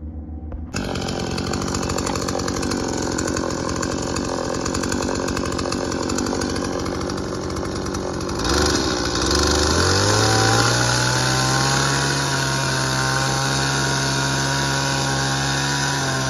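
A saw running loudly and steadily outdoors at a construction site, a continuous engine-driven whine that rises in pitch partway through and holds high to the end, with no talking.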